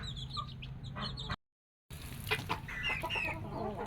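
Chickens hatched from blue eggs, among Chinese Silkie cockerels, cluck in short, scattered bursts over a low farmyard hum, broken by a brief silence before the clucking resumes.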